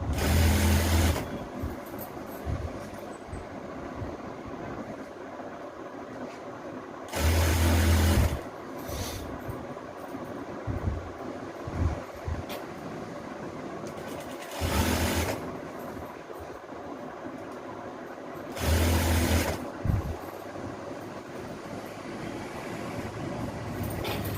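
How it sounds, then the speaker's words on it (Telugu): A sewing machine stitches a readymade madisar saree, whirring in several bursts of a second or so each, separated by quieter handling noises and pauses. "లంగా కుట్టినట్టుగా మీరు స్టిచ్ చేసుకోండి"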